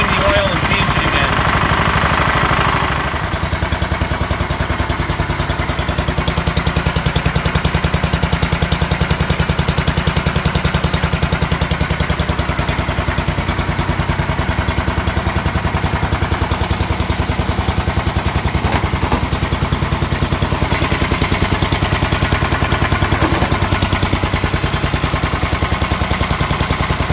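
A 1969 Sears SS12 garden tractor engine with a knocking fault runs after a restart, a loud, close, rapid rattling clatter that holds steady and continuous for the whole stretch without pause.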